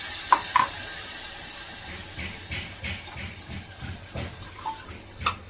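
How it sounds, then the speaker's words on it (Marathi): Hot oil sizzles and spits as cold water from rinsing the mixer jar hits chilli paste in the pan, with stirring scrapes and bursts of hissing steam. "हे मिक्सरचं भांडं धुवून पाणी घेते टाकते त्यात"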